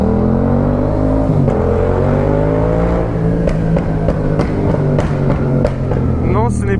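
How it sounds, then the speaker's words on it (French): A motorbike fitted with an aftermarket exhaust revs hard as it passes in the street. The engine roar is loud and sustained, with a rising whine, and brief talk comes through underneath it. "Cet échappement, il n'y a pas à dire, c'est le meilleur."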